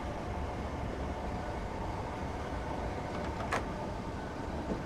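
An electric train in Train Simulator 2017 runs on the London Bridge to London Victoria route, a steady broadband rumble and hum of the cab and rails, continuous and even, with a brief sharp click near the end.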